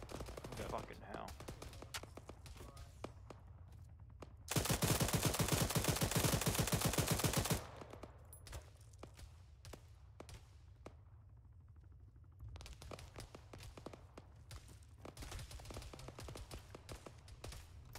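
Enemy gunfire crackles in Arma 3 on the Chernarus map: scattered rifle shots and short bursts, then a loud sustained automatic volley lasting a few seconds, followed by more sporadic and distant shooting.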